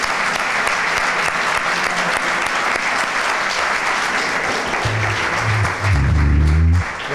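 A crowd at a bullfighting tribute talk honouring the Campuzano dynasty claps loudly and steadily, a dense wash of applause that swells near the end, with a few low voices underneath.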